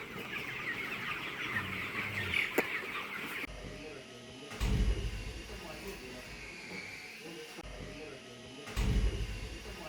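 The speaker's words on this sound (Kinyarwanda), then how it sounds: "Izi ni inkoko wangu." Chickens cluck and murmur close by, with a few louder bursts and a faint hiss in the background.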